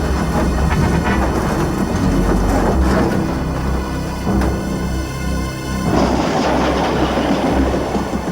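A train crosses a bridge weakened by an accident, a loud continuous rumble with clattering wheels and metallic rattling that swells again near the end, with no voices.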